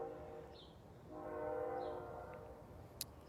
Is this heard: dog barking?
no